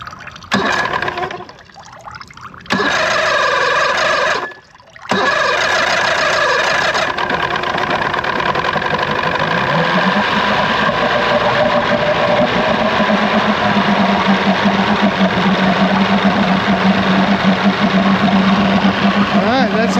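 Johnson 115hp outboard engine running with throttle cables disconnected, a loud continuous roar with splashing, watery churning, briefly cutting out early on before settling into a steady run.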